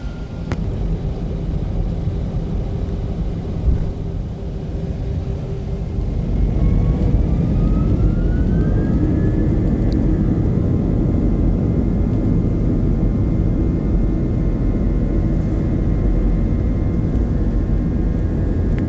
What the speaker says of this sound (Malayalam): ഇതൊക്കെ ടേക്ക് ഓഫിൻ്റെ ഭാഗമാണ്,